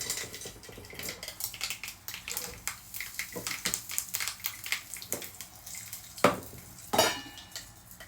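Curry leaves crackle in hot oil for a dhokla tempering, a soft hiss broken by repeated clinks and scrapes of a spoon against the pan.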